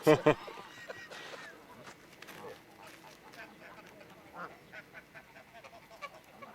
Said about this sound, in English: These are big ducks. Big duckies. Big geese.